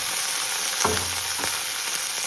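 Green chillies and dried red chillies frying in a pan for tomato chutney: a steady, loud sizzle with a couple of brief stirring scrapes, close and continuous, no voices.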